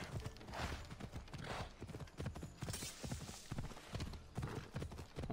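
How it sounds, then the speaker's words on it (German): Horse hooves clip-clop in a steady galloping rhythm while riding in the video game Assassin's Creed Odyssey, continuous and fairly close throughout. "Von daher reiten wir mal weiter zu unserem Ziel hier."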